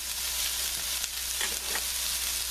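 Tiny red beans with pepperoni and a tablespoon of Cajun seasoning sizzle in a hot pan, giving a steady close-up frying hiss with a few soft stirring scrapes and a low hum underneath.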